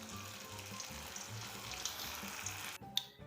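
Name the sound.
frying remaining balls in hot oil in a pan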